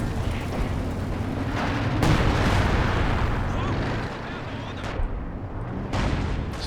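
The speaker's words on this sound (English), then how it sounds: "So you're going for a base barrage now." An artillery base barrage in Company of Heroes 2 sounds as a loud, continuous roar of booming shell impacts and bursts, with several sharp blasts standing out over a dense rumbling bed.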